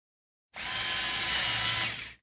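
A power screwdriver drives screws back into the case of a split, chording mechanical keyboard. It gives one close, steady whirring burst of about two seconds with no talk over it.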